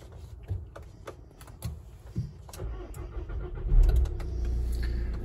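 A 2011 Volkswagen Caddy BlueMotion van with about 29,000 miles starts up after a few faint clicks, its engine catching with a rising rumble about four seconds in and settling into a steady idle.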